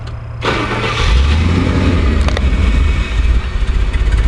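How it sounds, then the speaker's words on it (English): A heat-soaked Rolls-Royce car with a stalling problem cranks and fires up, settling into a loud, close, rough idle. "I'm going to start up, and it'll probably only take a few more minutes for it to stall"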